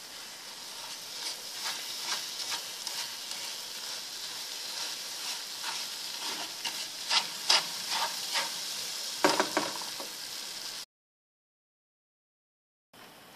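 Sugar and lemon caramel bubbling in a pan, a quiet steady hiss and sizzle with scattered pops and a few stirring scrapes, cutting to silence near the end.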